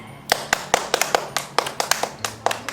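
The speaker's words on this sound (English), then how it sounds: "Now clap your hands." A child's hands clap during a movement game at home, about a dozen sharp, separate claps in an uneven rhythm, close and clear against a quiet background.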